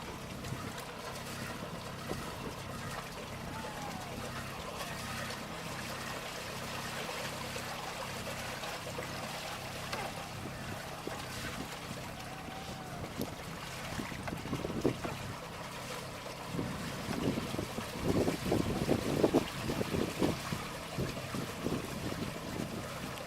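HABER 32C4 sailboat motoring under its engine at about 3.5 knots, heard from on deck: a steady low engine drone under wind noise and water wash, with louder splashing and rumbling bursts near the end.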